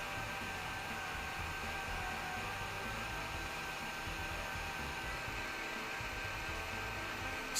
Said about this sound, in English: Celebratory bubble gun blow for those likes.